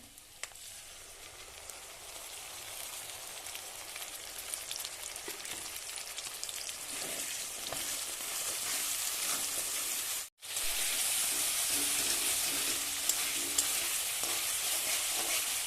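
Fried shrimp with mustard paste, turmeric and salt sizzling steadily in a pan, a dense close crackle that briefly cuts out midway and returns louder, with no talking.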